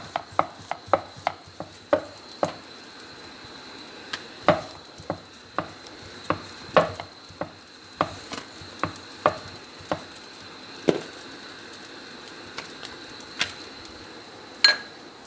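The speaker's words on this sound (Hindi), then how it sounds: "अभी देखिए हमने पेड़ा लिया, इसको हम बेलने स्टार्ट करते हैं।" Roti dough is rolled out with a rolling pin on a board, producing a string of light, irregular taps and knocks, close and fairly quiet, spaced every half second or so with short pauses.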